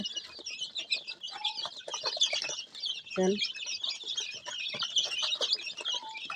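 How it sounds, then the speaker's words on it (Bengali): Chickens cluck steadily as they run about, feed and hop, with dense overlapping clucks and higher chirps throughout and one brief low thump near the middle. "দেখেন মুরগিগুলো কি সুন্দর দৌড়াচ্ছে, খাচ্ছে, লাফাচ্ছে।"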